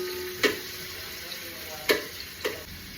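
Onion frying in hot ghee on a low flame, a steady soft sizzle with a few sharp stirring clacks spaced across the moment, close and fairly quiet, no voices.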